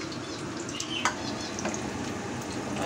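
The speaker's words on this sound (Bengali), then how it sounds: "টিফিনের জন্য কুমড়োর বড়া ভাজছি, ওই পকোড়া টাইপের" Steady oil sizzling as pumpkin fritters fry in a pan, with a few faint clinks and stirring sounds, no voices.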